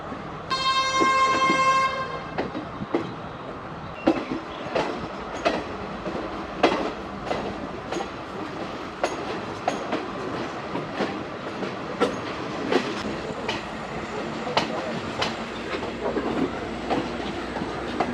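A train in Sri Lanka sounds its horn at the start, then rolls along the rails with regular clickety-clack wheel beats over joints, heard from on board at moderate volume.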